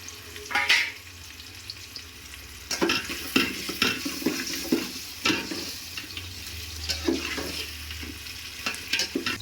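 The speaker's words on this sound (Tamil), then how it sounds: "எண்ணெய் சூடாயிடுச்சு வெங்காயம் போட்டுக்கிறேன் அடுத்தது பிரிஞ்சி இலை அன்னாசி பூ பட்டை லவங்கம் சேர்த்துக்கிறேன்" Onion with bay leaf, star anise, cinnamon and cloves frying in hot oil, a steady soft sizzle punctuated by clinks and stirring scrapes in a home kitchen.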